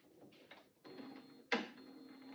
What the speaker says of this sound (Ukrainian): Принтер починає стандартний запуск.